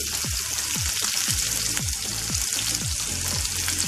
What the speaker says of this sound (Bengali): এবার এটাকে আমি একটু ভেজে নেবো